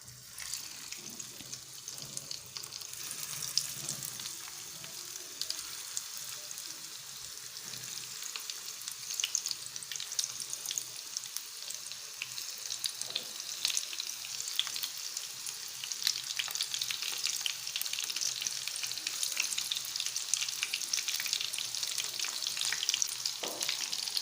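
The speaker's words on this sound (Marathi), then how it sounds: "मी इथे डीप फ्राय करते पण तुम तुम्ही तुमच्या आवडीनुसार शॅलो फ्रायसुद्धा करू शकता एक एक करून सोयाबीन मी इथे तेलामध्ये टाकते" Soybeans deep fry in hot oil over a low gas flame, giving a steady, close, hissing sizzle that grows slightly busier over time, with no talk.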